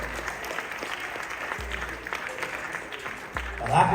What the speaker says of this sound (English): Clap those hands for the Lord.